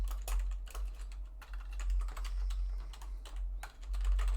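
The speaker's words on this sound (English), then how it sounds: "It's getting a lot tedious typing this out" Steady, close typing on a computer keyboard, a dense run of quick key clicks over a low hum with no talking.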